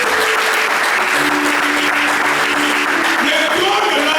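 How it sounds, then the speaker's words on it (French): Church congregation applauding at a French-language Sunday service, dense steady clapping from a large crowd filling the room, with a voice audible underneath. "Est-ce que nous pouvons acclamer le Seigneur?"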